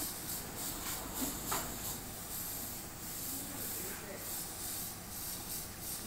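An aerosol can spray-paints Air Force 1 sneakers with a steady, close, broad hiss that barely changes across the clip, and soft talk can be heard beneath it.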